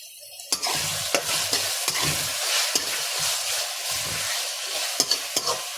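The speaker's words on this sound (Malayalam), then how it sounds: "തക്കാളി കൂടെ ഇട്ട് ഒന്ന് മിക്സ് ചെയ്ത് കൊടുക്കാം" Tomatoes are stirred into a hot, sizzling frying pan, with a steady hiss of frying broken by repeated scraping strokes of the spoon at an even rhythm, close and alone.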